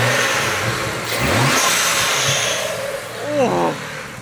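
A BMW N54 engine with a modified intake and charge pipe is revved twice in short bursts. Each rev swells and falls over a rough, steady engine hum, close to the listener.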